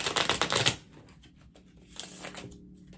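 A deck of tarot cards is riffled in a quick, crisp burst, then lighter flicks and taps follow, close and fairly quiet.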